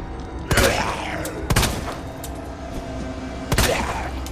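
Three loud gunshots from Resident Evil 2 Remake ring out close, two about a second apart and a third after a longer pause, each with a short echoing tail over a low background hum.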